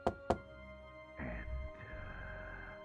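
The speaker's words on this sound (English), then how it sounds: "You knock on the hotel door room." Two sharp knocks land on a hotel room door one after the other, then softer shuffling and muffled noise follow.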